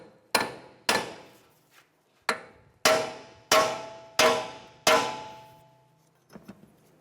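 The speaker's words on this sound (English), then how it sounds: "take a large punch and just right in this area, I just want to hammer down the knuckle" Seven sharp metallic hammer strikes on a punch ring out against a steel steering knuckle of a 2004-2010 BMW X3 at irregular intervals, each clang decaying quickly, followed by a couple of faint taps.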